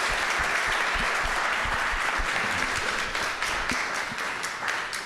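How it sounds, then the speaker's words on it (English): Live crowd at Art Basel Miami Beach applauding Eggshells, a full round of clapping with distinct sharp claps on top, holding steady then gradually tapering toward the end. "Can we have a round of applause for Eggshells?"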